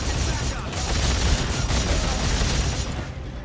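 A Gatling gun in the video game Dead Space 3 fires a dense, continuous burst of rapid shots, loud and sustained for a few seconds with no break.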